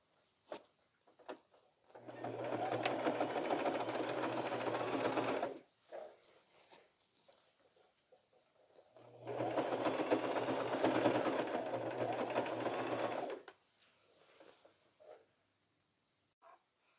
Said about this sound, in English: you just sew that all the way down to the bottom, and I double stitch that, or you can even triple stitch